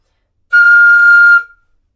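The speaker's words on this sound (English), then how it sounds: "To make a super high sound, it sounds a bit silly, you cover the end of the flute" A single piercing, very high flute note, played with the end of the flute covered, held steadily for about a second, then cut off cleanly.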